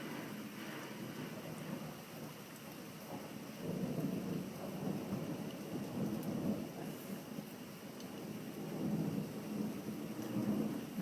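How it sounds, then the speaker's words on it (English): Strong thunderstorm at a home in Hoover, Alabama: steady rain hiss with repeated low rolling thunder rumbles swelling and fading, heard from indoors at a moderate level with no talking. "Yeah, this is a pretty good thunderstorm."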